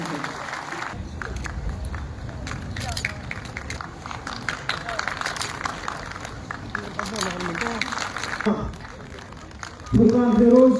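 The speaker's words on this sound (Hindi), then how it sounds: "तालियां प्लीज, इसके लिए तालियां बजाइए।" Applause from an audience at a cultural legacy event, steady clapping mixed with crowd noise and overlapping voices, continuing at an even level before swelling louder near the end.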